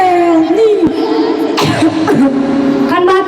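A young girl coughs once in a short, sharp burst that interrupts her own drawn-out, sing-song vocalizing, close to the microphone.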